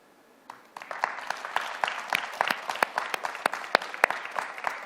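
An audience breaks into applause, a dense wash of hand claps that builds quickly and holds steady, fairly close and loud.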